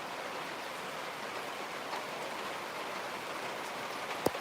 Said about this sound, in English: you already got the rain and bad winds or heavy rain and lightning and thunder?